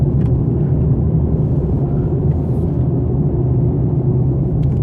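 Mercedes-Benz E200 d with 9G-Tronic gearbox accelerating in sport mode, a steady deep engine and road rumble held loud and close throughout, with no talk over it.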